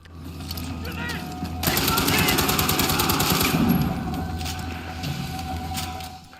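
Sustained automatic gunfire from a first-person shooter, Far Cry 4, bursting in loud and dense after a quieter start, with rapid rhythmic shots and mechanical clatter under a faint game soundscape.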